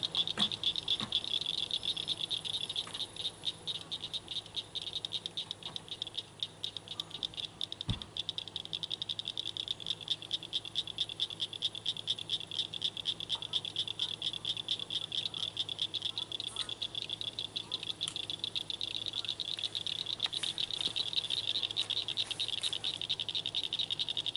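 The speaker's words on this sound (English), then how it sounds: "Oh, listen, the frogs are going." Frogs call in a dense, rapid rattling chorus at Lake Brownwood State Park, the pulsing trill carrying on without a break and mixed with insect buzzing, and a faint voice can be heard now and then underneath.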